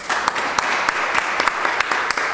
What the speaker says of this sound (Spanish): Un fuerte aplauso a Inda.